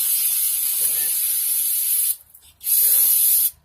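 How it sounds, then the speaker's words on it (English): Two loud, close hissing blasts of aerosol brake cleaner sprayed onto a car engine, the first long and steady, a brief gap, then a second shorter burst. "take some brake clean, spray the engine down"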